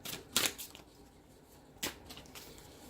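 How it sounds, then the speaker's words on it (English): Tarot cards get a quick riffle shuffle, two short crisp bursts of flicking card edges about a second and a half apart, close and fairly quiet, with no one talking. "one more good shuffle"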